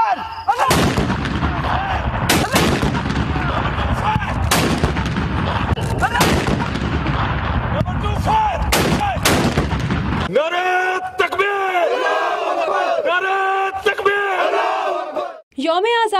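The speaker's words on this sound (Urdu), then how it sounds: "دارالحکومت اسلام آباد میں 31 اور صوبائی دارالحکومتوں میں 21-21 توپوں کی سلامی دی گئی۔" Cannon gun salute for Pakistan Independence Day in Islamabad, with heavy booming shots repeating every second or so over a continuous loud crowd roar, followed by cheering voices after the firing stops.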